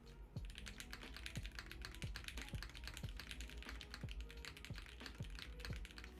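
Typing on a Mode 65 mechanical keyboard with a PC top case and brass bottom produces rapid, crisp keystroke clacks in an irregular rhythm, close and clear, with no talking.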